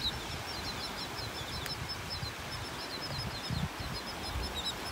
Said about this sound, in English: Couple gulls here, a couple little sandpipers, but the majority of these birds are terns.